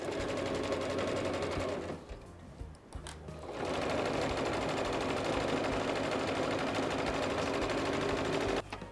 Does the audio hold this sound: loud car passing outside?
no